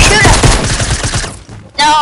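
Dense, loud volleys of automatic gunfire from a PS4 shooter game rattle continuously for over a second, then drop away briefly before another loud burst; a voice is faintly present underneath.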